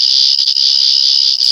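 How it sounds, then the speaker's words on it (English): A steady, jittery electronic whirring from a Thirteenth Doctor sonic screwdriver toy by Character Options, shrill and continuous with slight wavering, close up and alone. "Press the button 3 times and we get the jittery whirring sound"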